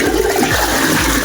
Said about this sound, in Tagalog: pinasimbol na po natin itong flasher at nilagyan po natin ng tubig para matesting